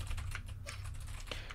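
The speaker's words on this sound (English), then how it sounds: "Oh no, my typing is not good." Rapid, uneven typing on a computer keyboard during a Jackbox party game, a dense run of clicky keystrokes carrying steadily through the short moment with no voices.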